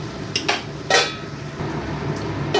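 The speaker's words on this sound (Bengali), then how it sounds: "চাপাটা নামিয়ে নিচ্ছি" Lid lifted off a cooking pot of raw hilsa fish curry with eggplant, a few sharp metallic clanks and clatters close by against a low kitchen background hum.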